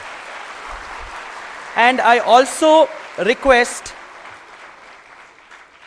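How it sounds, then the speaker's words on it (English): Soft, continuous applause from an audience at a cyber crimes conclave lingers in the background while a voice speaks over it at the microphone. "we give a huge round of applause."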